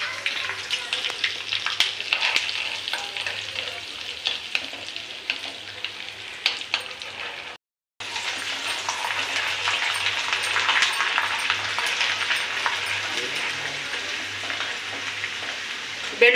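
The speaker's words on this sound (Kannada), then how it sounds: "ಒಗ್ಗರಣೆಗೆ ನಾನು ಸ್ವಲ್ಪ ಹಳದಿ ಪುಡಿ ಹಾಕ್ತಾಯಿದ್ದೀನಿ" Turmeric powder added to hot oil for a tempering while making puliyogare, a loud steady sizzle with stirring that cuts out briefly and then resumes just as strongly.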